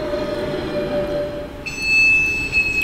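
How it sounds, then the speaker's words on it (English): A Class 450 electric train on the Woking to London Waterloo line rumbles steadily, and then a sustained high-pitched squeal from the wheels or brakes rises and holds over the running noise. "You are a very squeaky train."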